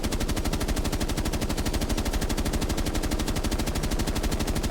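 Rifle fired on full auto with unlimited ammunition in Rainbow Six Siege, a dense, unbroken stream of rapid shots at a steady fast rhythm, loud and close, with no talk over it.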